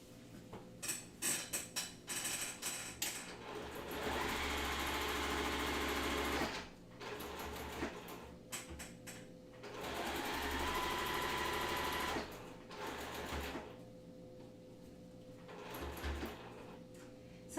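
A sewing machine stitches quilt seams for a wave pool block-of-the-month quilt, running in several sustained bursts with short pauses and handling clatter between them, close and moderately loud.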